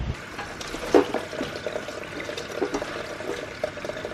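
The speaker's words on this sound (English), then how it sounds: "I'm gonna wash the veggies first." Vegetables for a Greek salad being rinsed under running water at a sink, with a steady pour and splashing that rises briefly at moments, fairly close and without talk.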